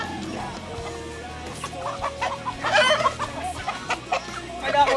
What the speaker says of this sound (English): Caught me a chicken.